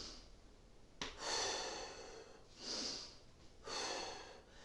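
Breaths drawn slowly and heard up close during a no-equipment pilates exercise, three long airy inhales and exhales with pauses between them and no talking.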